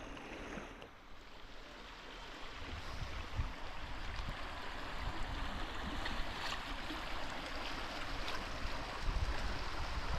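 Periyar river water running along the bank at low water, a steady broad rush of flow that holds close and constant, with no voices over it.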